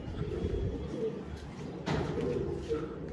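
Soft, low cooing from a pigeon in a home coop, steady and fairly faint with muffled voices and background noise around it.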